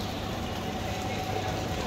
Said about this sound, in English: Okay, there's the train.